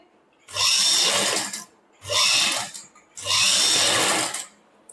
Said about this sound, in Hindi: इसके बाद अब आपको डबल सिलाई लगा लेनी है